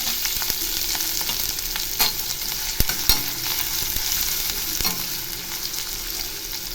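Onions fry in oil with fennel seeds, a close, steady crackling sizzle with a few sharp pops and occasional utensil clicks, and no voices.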